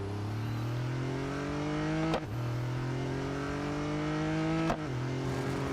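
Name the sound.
race car engine accelerating in Real Racing 3 video game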